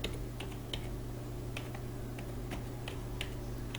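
Steady keystrokes tap on a computer keyboard during Excel data entry, soft close clicks in an even rhythm over a constant low hum.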